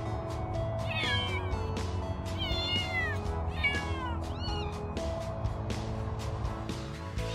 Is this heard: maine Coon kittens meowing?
yes